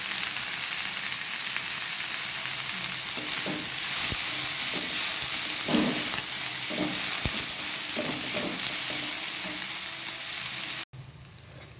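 Onions mixed with salt and turmeric sizzle in hot oil, a continuous close frying hiss broken by several scraping stirs, then a sudden cut near the end.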